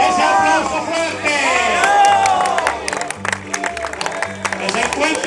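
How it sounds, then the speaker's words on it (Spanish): A crowd at a Canary Islands celebration claps and cheers loudly, with a sustained wash of applause and shouts mixed under a strong amplified voice and music-like tones. "¡Ese aplauso fuerte!"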